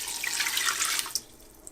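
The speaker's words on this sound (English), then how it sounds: "Now I'll pour in 2 cups of water," Two cups of water pour into the inner pot of an 8-quart Instant Pot Duo Nova in a brief, splashing rush that stops abruptly with a couple of faint drips.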